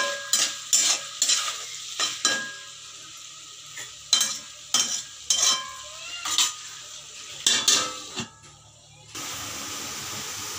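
Okra and potato sabzi stirred in a pan, with a series of sharp spatula scrapes and knocks over a hissing fry, close by, ending in a steady sizzle once the stirring stops.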